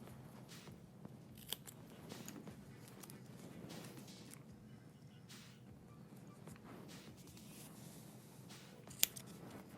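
Scissors snipping adhesive strip during an iPad 7th generation screen replacement, quiet close cuts with soft crinkling handling noise and a couple of sharp clicks, no voices.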